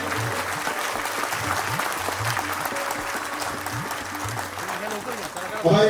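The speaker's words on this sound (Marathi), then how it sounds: "श्री भास्करशेठ जाधवचं जोरदार टाळ्याचं स्वागत, जोरदार टाळ्या" Audience at a diamond celebration clapping steadily to welcome Bhaskarshet Jadhav, a sustained mid-distance applause with someone talking over it on a microphone.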